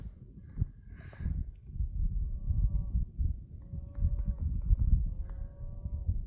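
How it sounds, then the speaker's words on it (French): Cattle lowing from far down in a valley below a mountain trail, several drawn-out moos rising at intervals over steady wind and outdoor ambience. "J'entends les vaches en bas."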